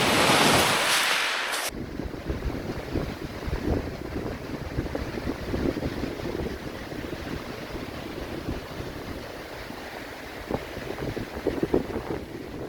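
Warm wind blows across open water near a park, a steady soft roar with faint lapping waves and microphone buffeting, after a brief burst of louder noise at the start; no one speaks.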